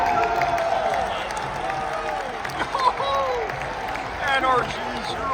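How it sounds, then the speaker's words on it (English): An arena crowd at the RLCS Boston Major Rocket League event reacts to a goal with sustained cheering, whoops and clapping, a dense roar of many voices with scattered shouts close by. "I was able to capture the immediate reaction of the crowd"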